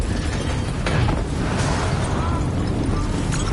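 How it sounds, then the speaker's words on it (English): Explosions rolling across a facility in Call of Duty: Black Ops 3, a continuous loud rumbling din with several heavier booms and crackling debris, alone without talk. "we have multiple explosions across the facility"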